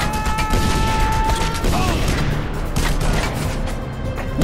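Dense gunfire from the video game Just Cause 2 rattles loudly and almost without a break, with a few sharper booms and some electronic tones mixed in.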